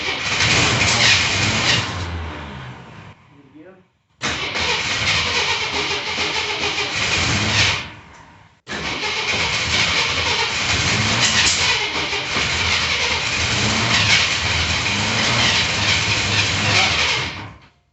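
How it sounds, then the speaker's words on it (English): A Jeep engine starts and runs with a loud, steady rumble, cutting out twice in short gaps before catching again and running on, with no talk over it. "before we start the Jeep"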